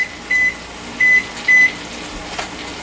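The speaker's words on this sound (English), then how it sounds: "So I'm going to set a kitchen timer for that." A kitchen timer beeps three times in short, evenly spaced tones, loud and close, over a low steady background hum.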